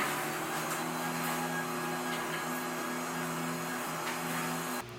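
An ergonofis Shift 2.0 standing desk motor runs in a steady, low electric hum with a faint whine for several seconds, close and fairly quiet, then cuts off abruptly near the end.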